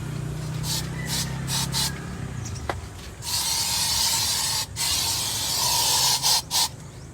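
Baygon insecticide sprayed onto plants from a can, several short hissing bursts followed by longer continuous sprays, close and loud.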